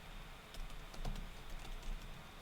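Typing a terminal command on a computer keyboard: a few soft, near key clicks scattered over a steady background hiss, with no voices.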